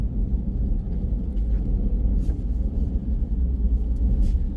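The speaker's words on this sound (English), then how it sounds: "Now, still driving in a mixture of snow, slush, and ice." Steady low rumble of a Ford F150 pickup truck driving over a mix of snow, slush and ice, continuous road and engine drone with faint scattered crunches and splashes, no talking.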